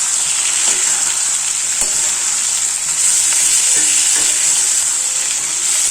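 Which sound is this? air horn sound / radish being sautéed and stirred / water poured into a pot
radish being sautéed and stirred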